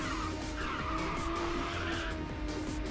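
Car drifting in the video game Ridge Racer 6, a loud continuous tire squeal and skid over a roaring engine that holds steady for a few seconds, close and dense with no talking.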